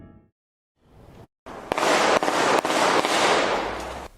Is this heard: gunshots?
yes